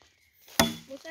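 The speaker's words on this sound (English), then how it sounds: "The way I see you chopping, eh?" A blade strikes wood or plants once in a garden, a single sharp, loud chop with brief ringing decay, followed by faint outdoor background and a little voice.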